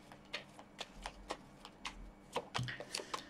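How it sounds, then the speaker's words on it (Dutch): Tarot cards being shuffled by hand, giving a series of crisp riffling and tapping bursts in an uneven rhythm, close and fairly quiet, with no voices. "En zo'n kaarten schudden om te kijken wat deze week voor de ram gaat brengen"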